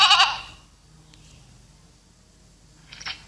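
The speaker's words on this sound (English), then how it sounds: "Goat." A goat bleats in a short, loud burst at the start, then only faint background remains until a softer, brief bleat near the end.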